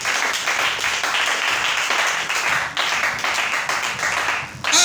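A church congregation applauding, steady dense clapping from a large crowd at close range with cheering mixed in, continuing throughout.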